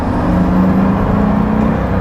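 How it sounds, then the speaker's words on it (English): A Pagani Huayra's AMG twin-turbo V12 holds a loud, steady drone close up, its deep engine tone sustained without a break. No one speaks. "You can definitely tell it's that AMG V12, that twin turbo V12."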